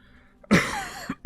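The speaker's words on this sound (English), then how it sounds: "Sorry about coughing into the microphone there." A sharp, close cough straight into a microphone, followed by a couple of shorter throat-clearing bursts, loud against a quiet background.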